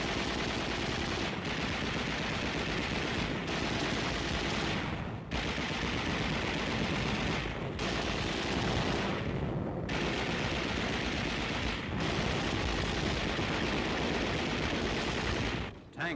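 World War II machine gun fire during the Battle of Okinawa near Naha, in archival footage: loud, sustained automatic bursts lasting several seconds each, broken by brief pauses.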